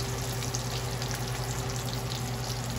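Tacos dorados de frijoles con chorizo fry in hot oil with a dense, steady sizzle and crackle. The frying stays loud and continuous throughout, with no talking.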